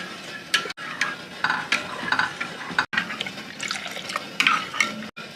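A spoon stirs a sago pudding mixture in a pot over low heat, a continuous scraping and sloshing with short wet clinks, close and moderately loud, briefly broken by a few abrupt gaps.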